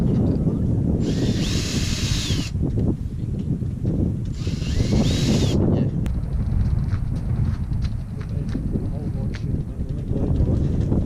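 A power drill bores holes through the timber of a sailboat's transom frame in two short bursts, with wind buffeting the microphone and people talking over the work.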